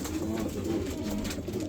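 Racing pigeons coo in a loft with soft, low, rolling throaty calls over a steady background, close and continuous.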